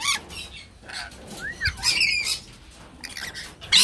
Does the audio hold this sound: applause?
no